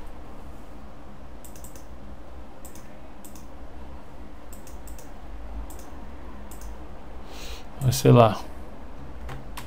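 Someone types a folder name on a computer keyboard with scattered clusters of soft key clicks over a steady background hum, and a person speaks briefly near the end.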